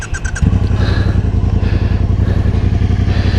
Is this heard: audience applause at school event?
no